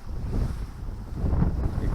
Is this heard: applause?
no